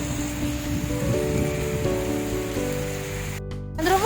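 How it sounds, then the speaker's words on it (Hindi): Heavy rain falling outdoors, a steady dense hiss throughout with a constant low hum underneath, fairly loud and without talk. "मस्त बारिश।"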